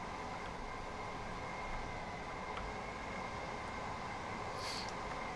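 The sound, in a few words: train running in Train Sim World 2 video game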